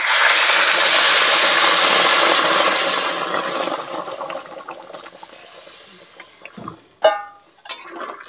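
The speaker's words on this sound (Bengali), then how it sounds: "এবার আমি গরম জলটা দিয়ে দিলাম।" Hot water is poured into a pan of rohu fish curry with yam, starting as a loud, rushing hiss and pour that fades away, followed by a few sharp bubbling and clattering bursts near the end.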